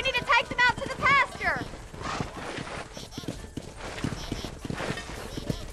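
Horse hooves clip-clop in the video game Red Dead Redemption, a steady quiet clopping under someone talking and game music.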